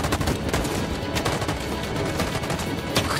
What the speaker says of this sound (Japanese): 援護射撃。